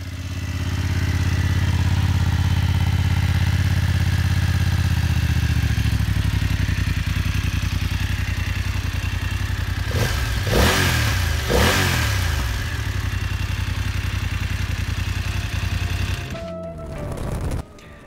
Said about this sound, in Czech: Poslechneme si taky zvuk řadového dvouválce.